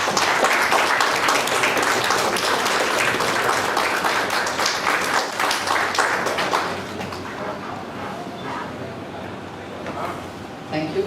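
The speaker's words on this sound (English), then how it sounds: "Can we have a big round of applause for" An audience at a conference session gives a sustained round of loud, dense applause that thins out and softens toward the end.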